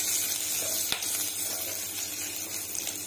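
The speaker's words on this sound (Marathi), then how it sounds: "त्याच्यामध्ये कढीपत्ता, मिरची आणि लसूण याची फोडणी दिलेली आहे आणि ते चांगलं परतून घेत आहे" Curry leaves, green chili and garlic tempering in hot oil for a macaroni pasta masala, giving a steady, close, bright sizzle that runs the whole time, with one sharp crackle partway through and no talking.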